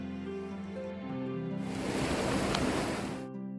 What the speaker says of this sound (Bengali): এবড়ো খেবড়ো পাহাড়ি ঢাল পেরিয়ে আমরা পৌঁছে গেলাম উচ্ছল রেলিন নদীর স্বচ্ছ জলধারার সামনে